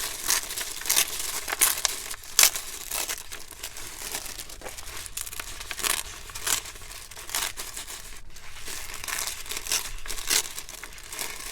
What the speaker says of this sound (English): you're going to tear along the edge. Tear it off of that tape.